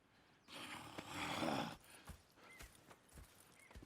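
Horse hooves clip-clop in the video game Red Dead Redemption 2, a few soft, quiet steps following a brief louder rush of noise at the start.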